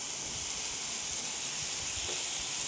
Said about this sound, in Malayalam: ലേശം എണ്ണ ഒഴിച്ചിട്ടുള്ള ആ എണ്ണയിൽ തന്നെ നമുക്കിത് വറുത്തെടുക്കാം.